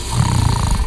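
Loud, close snoring of the sleeping folk-tale giant Bujang Awang Tabuang under a big tree, a deep rumbling rasp held through the short moment.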